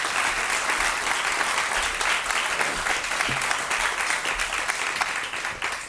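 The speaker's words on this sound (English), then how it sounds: "can we have another round of applause?" Dense, steady applause from a seated audience at a launch event for a charity, greeting a co-founder invited to the stage. It fills the whole stretch with continuous, even clapping and no clear speech.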